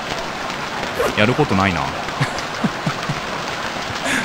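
Rain falling in the survival game Stranded Deep, a soft constant patter running throughout while someone speaks briefly in Japanese over it.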